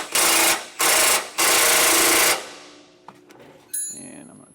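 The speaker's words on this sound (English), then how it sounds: "For the front bolt, we're going to be using an 18 millimeter socket." An 18 mm socket on a power tool loosens the front bracket bolt of a Hellwig front anti-sway bar on a 2020 Thor Four Winds motorhome: three loud close whirring bursts, the last one longest, then fainter clanks and handling noises.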